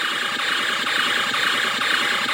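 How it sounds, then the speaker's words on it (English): Tiny electric motors inside a Bandai 1/350 scale Space Battleship Yamato model wobble its anti-aircraft guns back and forth. A steady, close buzzing whirr with a faint regular pulsing runs without a break. "these little motors. So that's going to wobble the anti-aircraft guns back and forth"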